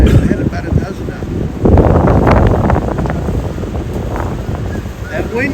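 Gusty wind buffets the microphone aboard a canal boat near a large marina, a loud steady rush with a stronger surge partway through, a low water and boat rumble beneath.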